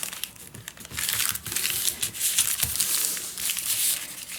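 Brown paper bag crinkles and crumples loudly up close as it is folded into a journal cover, a continuous crisp rustle with a few sharper crackles.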